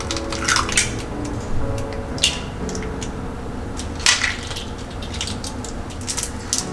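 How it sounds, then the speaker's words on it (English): Three eggs cracked one after another into a bowl of flour, sharp shell taps and cracks spaced apart over quiet kitchen background noise. "Break 3 eggs and add into it."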